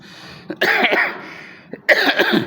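Two sharp coughs, close by, separated by a short pause; each is a harsh burst with no talking around them.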